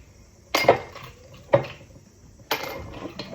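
Ice cubes drop into a whiskey glass for Maker's Mark: a few sharp, close clinks spaced a second or so apart, each with a brief glassy ring, over quiet room tone.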